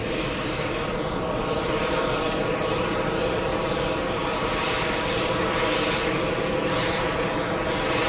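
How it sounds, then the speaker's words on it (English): An Aeromexico Boeing 787 airliner at JFK airport produces a loud, continuous jet engine roar with slow swelling waves of hiss, steady across the whole stretch. "we have the Aero Mexico 787"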